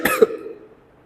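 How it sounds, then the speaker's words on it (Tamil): A person with a cold from being soaked in rain gives a single sharp, close cough that quickly fades, with no other sound around it. "எனக்கு கொஞ்சம் இருமல் அதிகமாக இருக்குது"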